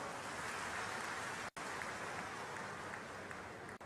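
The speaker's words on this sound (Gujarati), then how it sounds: "તાળીઓ તો પાડો." Audience applause at a public gathering in Banaskantha about recharge wells, a faint, steady wash of clapping from a crowd that runs unbroken apart from a brief cut, with no speech over it.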